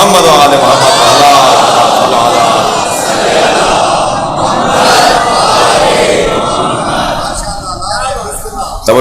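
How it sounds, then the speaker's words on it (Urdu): A large crowd loudly chants salawat in unison at a religious gathering with a cleric, a dense sustained roar of many voices that rises and falls across the whole stretch. "صلوات پڑھیں ذرا محمد و آل محمد."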